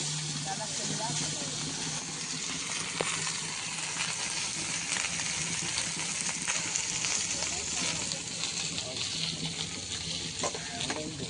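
Bottle gourd curry with shrimp fries and is stirred in a pan, a continuous, moderately loud sizzle and hiss with scraping stirs, faint voices murmuring underneath.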